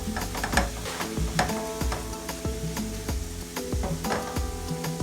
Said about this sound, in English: So we're going to give it a little stir.